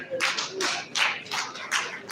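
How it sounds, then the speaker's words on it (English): Crowd applause at an award ceremony, a steady patter of many hands clapping in uneven bursts that rise and fall, fairly close and moderately loud, with no talking. "Please, a round of applause for the VC's HOD."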